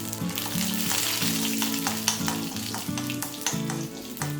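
Steady crackling and spitting of mustard seeds, dried chillies and curry leaves popping in hot oil, dense and close, with no voices.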